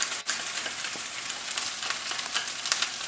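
Steady close sizzle of an egg frying in a pan beside a pile of fried rice, a continuous hiss with small crackling pops throughout, no talking.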